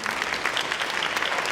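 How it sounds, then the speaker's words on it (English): An audience at a community forum applauds its panel with continuous, fairly close clapping from a modest crowd, steady in level through the short stretch. "you deserve some applause as well"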